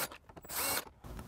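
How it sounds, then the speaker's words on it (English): A power tool drives out 10 mm bolts on a Lexus GS: a short, close burst of whirring spin with brief ratcheting clicks around it, loud for under a second. "So we're gonna use a power tool."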